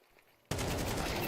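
Gunshots in a Counter-Strike match at the BLAST Fall Finals: after half a second of near quiet, a loud, dense burst of rapid fire erupts and continues without a break until the end.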